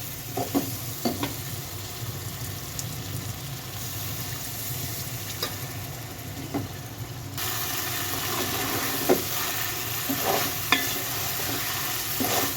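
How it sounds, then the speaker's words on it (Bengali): Pigeon meat curry fries in a pan with boiled potatoes, giving a continuous close sizzle and hiss broken by repeated clacks and scrapes of a spoon stirring, with no voices. "মাংসটা কষানো হয়ে গেছে। এখন আলু দিব, এখানে সিদ্ধ আলু।"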